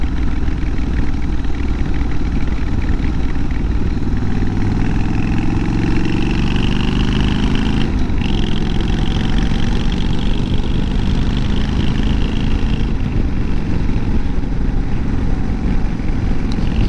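A homemade chopper-style motorcycle engine runs on a test ride, a loud, close, unbroken rumble with steady throttle and slow rises and falls in pitch, mixed with wind noise and no talking.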